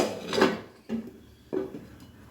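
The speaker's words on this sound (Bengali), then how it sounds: "এবারে ঢাকনা দিয়ে দিব।" A lid is set onto a cooking pan on a medium gas flame while making a Bengali dish: a scraping clink followed by two short metallic knocks about half a second apart, close and clear with no talk.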